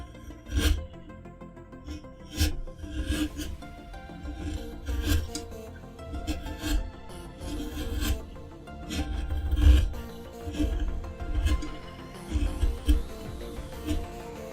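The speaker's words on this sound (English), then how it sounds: "just rocking the chisel backwards and forwards" A wood chisel rocks back and forth while slicing into a wooden carving, producing repeated close rasping scrapes and soft knocks in an irregular rhythm, fairly quiet and without talk.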